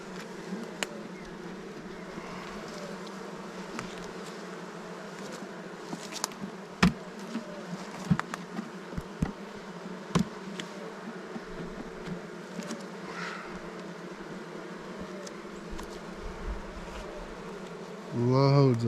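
Honeybees buzz steadily inside a beehive, a soft continuous drone with occasional clicks and knocks, and a louder buzz swells up close at the very end.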